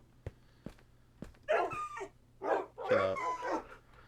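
Dogs in Minecraft barking and yipping, with a few sharp clicks followed by several close, whining barks in quick succession; a voice speaks briefly among them.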